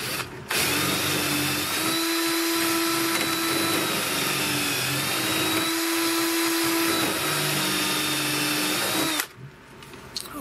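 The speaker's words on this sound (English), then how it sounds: "Let's drill a couple of holes." A power drill bores dowel holes through 3/4-inch lumber guided by a doweling jig, a loud steady whine that holds for about nine seconds with slight pitch wobbles, then cuts off abruptly.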